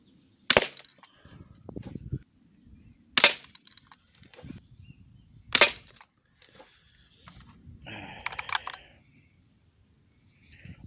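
Shots from an APX air rifle firing lead pellets outdoors: three sharp, loud cracks spaced a few seconds apart, each followed by a short rattle, with faint handling noise and a brief metallic clatter later.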